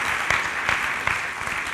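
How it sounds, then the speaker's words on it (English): Audience applause greets a young volunteer walking up onto the stage at a leadership academy event, a steady wash of clapping with a few sharper claps standing out, no talking over it. "Let's give our young guy a round of applause for coming right up on stage"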